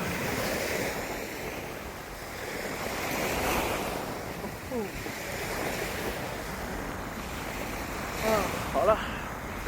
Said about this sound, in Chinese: 这时候海边又出现了一个野沙滩